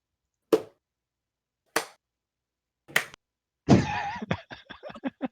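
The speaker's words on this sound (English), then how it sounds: "The slow clap" Three slow, spaced single claps ring out alone in silence, followed by a quicker burst of sharper clapping at the end.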